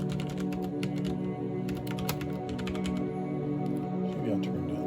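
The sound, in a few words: typing on CM Storm XT mechanical keyboard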